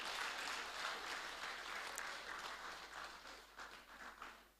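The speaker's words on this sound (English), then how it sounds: "Another round of applause for him." Audience applause at an academic science and technology conference, a continuous even patter of many hands clapping at moderate volume, slowly easing toward the close.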